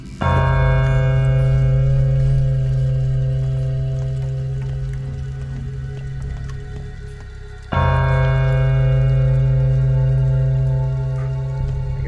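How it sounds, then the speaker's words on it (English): Heavy church bell tolling in the video game Pathologic 2, two loud resonant strikes about eight seconds apart, each leaving a long humming decay. "That obnoxious bell."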